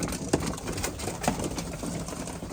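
Pigeons in a loft, including rollers, a rump pigeon and show racers, give soft low coos over a busy background of shuffling and rustling birds, with two brief louder calls.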